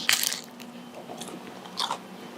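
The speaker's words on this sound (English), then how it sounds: "These chips hold up really well under the heat. You can hear the crunch in them." Crunchy tortilla chips on nachos bitten up close: a sharp loud crunch at the start, then softer crackly chewing and a second distinct bite near the end.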